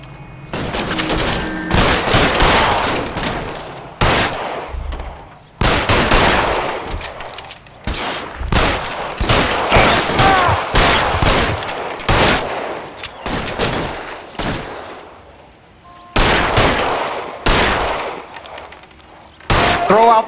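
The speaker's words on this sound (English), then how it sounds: "Fire a warning round." Loud bursts of gunfire in repeated volleys of shots with brief gaps between them during an L.A. Noire shootout with security men, close and dominant throughout.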